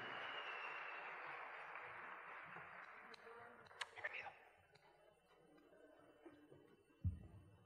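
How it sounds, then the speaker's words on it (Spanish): Applause from an audience greeting speaker Maurilio Suárez, a broad sustained crackle that is loud at first and gradually thins out, with a few sharper claps and knocks near the end. "Les pido un aplauso desde el corazón para Maurilio Suárez"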